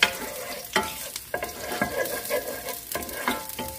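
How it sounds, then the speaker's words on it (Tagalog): Garlic fries in hot oil in a pan for chop suey, giving a steady sizzle broken by repeated stirring scrapes and clinks, close and moderately loud with no talking. "So, mainit na yung mantika natin. Unahin natin yung garlic."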